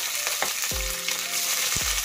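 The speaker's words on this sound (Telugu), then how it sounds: "ఇది ఒకసారి ఫ్రై చేసేద్దాము." Onions and green chillies frying in a pan for a spicy prawn pulao, with a steady close sizzle and a couple of low clanks and stirring scrapes.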